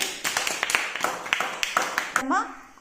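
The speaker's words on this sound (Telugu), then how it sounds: "వెరీ గుడ్ క్లాప్స్ కొట్టండి" First-grade children clapping in a Telugu class: about ten quick, irregular claps close by, mixed with children's voices.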